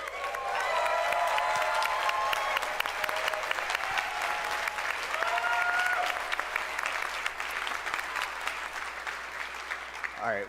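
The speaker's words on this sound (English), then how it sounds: "So can you guys stand up and give them a round of applause?" Large audience at a conference event of roughly 1,500 people standing and applauding, a dense, loud wall of clapping that holds steady for the whole stretch, with faint cheers mixed in.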